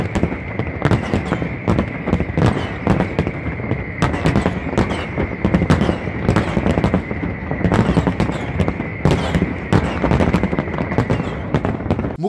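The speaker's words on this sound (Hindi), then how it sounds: "मुकामी वक्त रात 12 बजे आतिशबाजी का ये मुजाहरा शुरू हुआ।" A midnight New Year fireworks display in a street celebration, with rapid continuous crackling bursts and pops, loud and dense throughout with no let-up and no talk.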